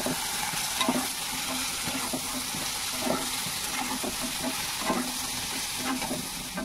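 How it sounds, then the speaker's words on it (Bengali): Chili powder and spices fry in hot oil as part of a meat-style curry recipe. A soft, continuous sizzle runs with faint stirring scrapes and no talking. "এরপরে ভাজতে নিই"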